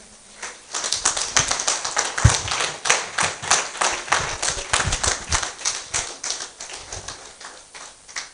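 Audience applause after an academic conference presentation: many hands clapping steadily for several seconds in a room, fairly close, with no talking over it.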